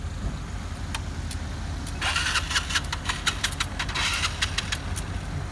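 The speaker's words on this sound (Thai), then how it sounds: "รถไถมีปัญหาครับไม่ติดสตาร์ทไม่ติดเลย" A tractor engine is cranked over and over without catching, a whirring starter churning in bursts against a low rumbling background.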